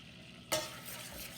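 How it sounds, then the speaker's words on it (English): Butter and frosting mixture in a pot gives a sudden soft sizzle and bubbling that starts abruptly partway through and keeps going quietly, with no voices. "Okay, so we're boiling frosting."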